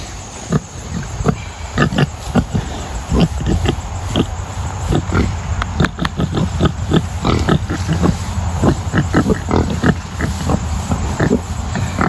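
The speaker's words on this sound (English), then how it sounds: "They're really, really smart and often use their noses to find food like that pig is doing right there." Pigs on a farm grunt and snuffle repeatedly at close range, short rough bursts in an uneven rhythm over a low background hum.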